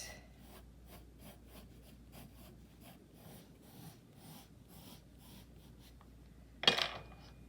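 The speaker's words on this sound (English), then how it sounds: "And then I could erase." A pencil drawing of an Air Jordan 1 sneaker is rubbed with an eraser: a quiet, rhythmic run of short scratchy strokes, ending in a brief louder scrape or knock near the end.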